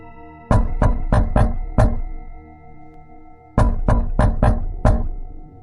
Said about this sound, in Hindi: बाहर से थाप अब तेज हो गई थी।